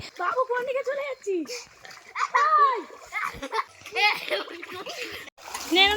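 People swimming in a village pond, with bursts of water splashing amid children's chatter, giggles and laughter, close and lively throughout.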